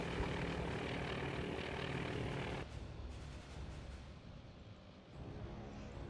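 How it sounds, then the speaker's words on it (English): A dive bomber in the naval combat game Task Force Admiral, its propeller engine droning loud and steady before the roar drops abruptly as it pushes over into a dive, settling into a lower continuous rumble. "this dive bomber is definitely... yeah, we already have one hit on this carrier, and he starts to push over for it."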